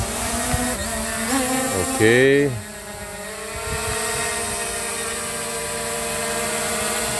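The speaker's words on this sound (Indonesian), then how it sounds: "saya akan coba menerbangkan drone ini." An SJRC F22S drone at a mine site spins up and lifts off with a loud, buzzing whine that rises and wobbles in pitch, then settles into a steady hum; a voice speaks briefly.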